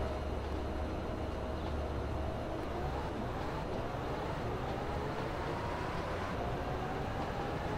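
A train engine in the game Transport Fever 2 drones steadily throughout, a low diesel rumble much like a bus engine, with faint rising and falling engine tones above it and no talking.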